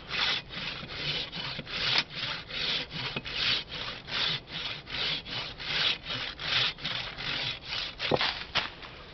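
Long run of evenly paced back-and-forth rasping strokes from a Silky hand saw cutting through wood, close and steady, with a sharp snap near the end as the cut finishes.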